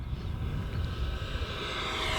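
A radio-controlled F-16 Thunderbirds model jet at full throttle makes a loud, steady, broadband turbine roar that stays strong and even throughout a short pass.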